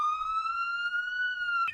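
A toy police car gives off a single steady electronic siren tone, a clean high wail held for nearly two seconds before it cuts off abruptly. It is close and plays alone, with no talking.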